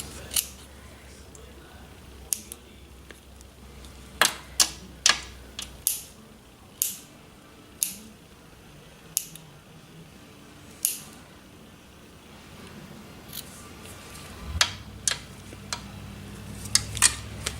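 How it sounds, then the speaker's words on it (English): Scissors snip fabric along a sewing line while making pumpkin place mats: a series of sharp, crisp cuts arrives irregularly, clustered in quick bursts over a faint, quiet background. "I'm just going to snip around and not crossing over my sew line"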